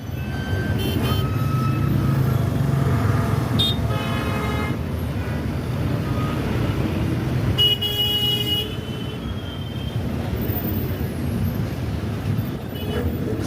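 Busy road traffic drones continuously, with several horn toots cutting through at intervals, some short and some longer.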